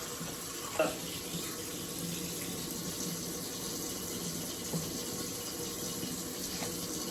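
Water running steadily while the inside of a cleaning machine's tanks and reservoirs is rinsed out, a soft continuous faucet-like flow with a couple of faint knocks, heard fairly quietly.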